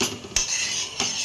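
A spoon stirs a cumin masala mixture for Kutchi dabeli in a metal pan, giving three sharp metallic clinks against a soft scraping hiss, with no voices.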